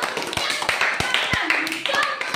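Children clap for a boy's handmade battery-powered fan, a few sharp, scattered claps rising over a nearby voice talking.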